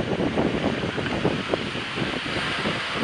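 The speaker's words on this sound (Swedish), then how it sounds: "det blåser ganska mycket nu där jag befinner dig" Strong wind buffets the microphone near the water approach to Härnösand, a steady loud roaring rush with gusty surges and no voices.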